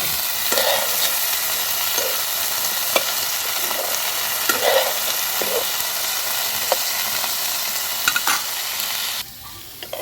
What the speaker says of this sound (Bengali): এগুলোকে ভালো করে কষে নেব ভাজা ভাজা করে